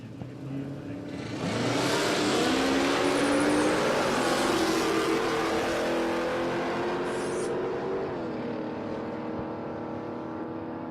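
Drag racing cars at Palmyra Raceway roar off the line and accelerate down the strip, a loud sustained engine blare with rising revs that holds for several seconds before slowly easing.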